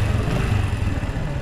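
Keeway CR 152 motorcycle engine revving up close, a loud, continuous low throb with an even pulsing beat and no ticking.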